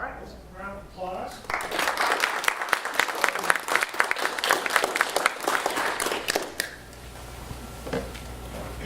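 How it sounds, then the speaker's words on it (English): An audience at an Austin JavaScript meetup claps after a talk on filtering arrays with higher-order functions: a full round of applause lasting about five seconds, preceded and followed by a brief, quieter stretch with a little talk. "All right, let's give a round of applause."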